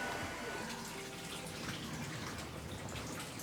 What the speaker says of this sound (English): この武甲山の伏流水がこの井戸に流れてきています。